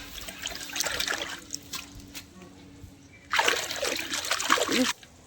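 Cotton garments dipped into a basin of salted water make a soft trickle and light splashing at first, then a louder, sustained sloshing and splatter up close before stopping abruptly.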